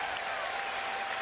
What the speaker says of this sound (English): Crowd is now roaring on every called strike.